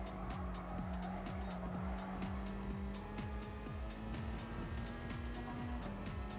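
Racing car in the Gran Turismo 7 game running over curbs, a steady engine drone overlaid by rapid, evenly spaced rumble-strip thuds that swell as the tyres cross the kerbs, heard continuously without speech.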